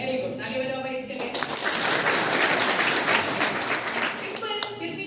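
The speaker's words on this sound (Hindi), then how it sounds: "ताली बजाओ भाई इसके लिए।" A crowd of schoolchildren at a motivational event in India bursts into loud applause that swells quickly and holds for several seconds, a dense roomful of clapping hands before tapering off, with some voices beneath.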